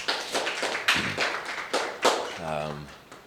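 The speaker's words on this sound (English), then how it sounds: "you can give yourselves a round of applause" Primary and secondary school students at an Easter coding hackathon clap for themselves, a small group giving loose, uneven claps near the listener, with a voice speaking briefly toward the end.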